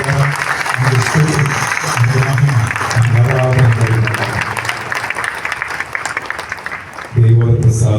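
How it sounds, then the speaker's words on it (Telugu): A church congregation claps loudly in rhythm, a dense burst of hand claps mixed with voices singing or speaking throughout, swelling again near the end. "గట్టిగా చప్పట్లు కొట్టి మనం చేస్తాం."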